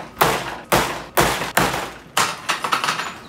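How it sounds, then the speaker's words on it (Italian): A heavy chair topples and crashes down, loud close thuds: four separate bangs, then a clattering run of smaller knocks as it settles, in a room during a home water heater repair, with no talk. "Oh, è caduta la sedia."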